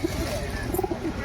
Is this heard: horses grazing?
no